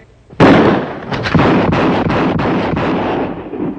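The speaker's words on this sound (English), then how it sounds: "5 shots, 5 seconds." Five rifle shots fired rapidly at a target in a sharpshooting contest, heard as a loud sharp report followed by several quick booming cracks that run together with heavy echo.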